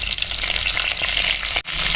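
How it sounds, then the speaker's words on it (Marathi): Garlic, coriander and curry leaves fry in hot oil for yogurt kadhi, a steady close crackling sizzle with stirring scrapes, briefly cut by a short gap near the end. "थोडासाच लसूण घालायचा आहे आणि थोडीशी कोथिंबीर, थोडासा कढीपत्ता, छान त्याला हलवून घ्यायचं आहे।"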